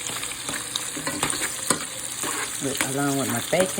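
Small sausages fry in a pan, a steady crackling sizzle with bursts of spattering and occasional utensil clinks, heard up close while someone speaks over it.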